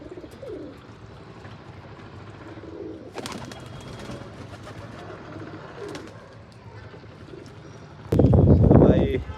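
Domestic pigeons coo softly and repeatedly while bathing in a freshly filled water basin, with a sudden loud rustling burst near the end.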